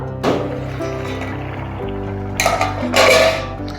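A metal lid clanks against a pot of boiling Kerala mango curry as it is lifted off, a few sharp clattering knocks with a hum of cooking underneath.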